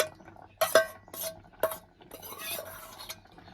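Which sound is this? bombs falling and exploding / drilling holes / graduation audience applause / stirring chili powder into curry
stirring chili powder into curry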